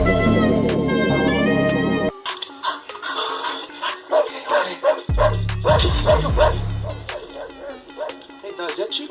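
A pet dog barks and yips repeatedly in a close, loud run of sharp barks, mixed in with music and rapping.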